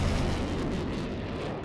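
A single heavy boom from a gun fired in a sci-fi audio drama chase scene, a loud low-frequency blast that rolls on and fades slowly over under two seconds.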